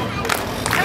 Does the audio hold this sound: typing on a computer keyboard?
no